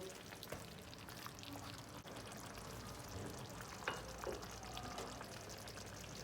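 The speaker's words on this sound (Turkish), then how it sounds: "Şöyle bir karıştırıyorum." An eggplant dish in a pot is stirred with soft scraping clatter over a steady low sizzle, a few sharper spoon knocks standing out along the way.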